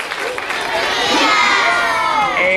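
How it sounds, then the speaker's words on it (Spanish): A school audience cheers for a group of sixth-grade students, loud crowd shouting and children's high-pitched yells swelling and holding strong, with some clapping mixed into the noise. "Fuerte el aplauso para la participación de los alumnos de sexto A."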